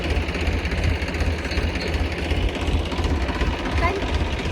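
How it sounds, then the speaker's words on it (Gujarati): Low, steady chugging of a tractor engine running continuously nearby, with a faint voice now and then. "ટ્રેક્ટર ચલાવે આ મમ્મી"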